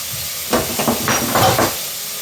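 Bitter gourd sautéed with salt in a pan gives a few clustered bursts of hissing sizzle and utensil clatter in the middle, over a quiet background, close by and without talk.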